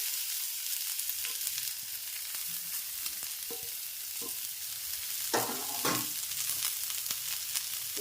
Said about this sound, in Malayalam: ചൂടായ എണ്ണയിലേക്ക് കടുകിടുന്നു ക്യാബേജ് ചേർത്ത് വെച്ചിരിക്കുന്നത് ചേർത്ത് കൊടുക്കുന്നു